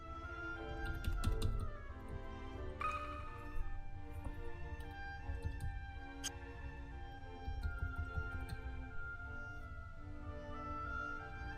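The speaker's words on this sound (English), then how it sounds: "when I press F on my keyboard" Computer keyboard keys are pressed repeatedly, with irregular clicks and taps up close in short bursts over a faint steady background, no voices.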